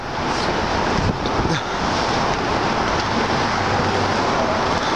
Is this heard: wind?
yes